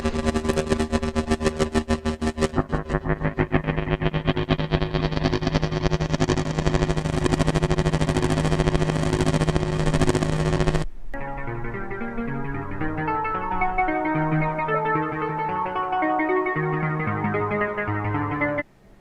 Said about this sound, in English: Marc's done these 10 really great free sounds for the NTS1